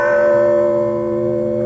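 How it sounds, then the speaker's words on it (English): Rung by a bell pull as a radio drama effect, a large servant-summoning bell peals in one sustained ringing strike with a long, slowly fading metallic hum. "that is quite a bell to summon the servants"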